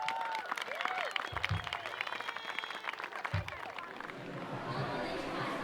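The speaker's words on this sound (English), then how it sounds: "Give them a clap." An outdoor community event crowd claps and cheers with whoops and excited chatter mixed in, a lively scattered patter with a couple of low thumps, then settling into murmuring voices.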